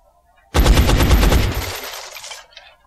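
A heavy soldier in the video game XCOM fires a loud, close burst of rapid automatic gunfire. The rattle lasts about two seconds and then trails off into a short echoing decay.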